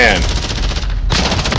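Rapid automatic gunfire from the video game Call of Duty: Modern Warfare rattles loudly and continuously through a short burst, each shot close and sharp.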